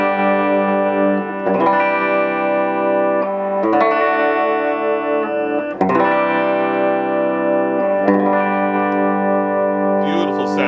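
Clean electric guitar through a Steve Vai Legacy Drive all-tube preamp pedal into an amp, reverb off, playing sustained chords in several phrases, full and harmonically rich with slight effects coloring, strummed loudly and ringing out between changes.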